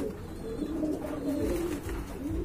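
Pigeons coo in a steady, low murmuring stream, several birds overlapping at close range with soft throaty pulses and no talk over them.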